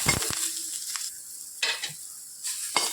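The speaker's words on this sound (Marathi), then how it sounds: "हळद कोथिंबीर कांदा मिक्स करून घ्यायचा आहे" Turmeric, coriander and onion stirred in a pan, giving a faint background sizzle broken by a few sharp scrapes and clinks of a utensil against the pan.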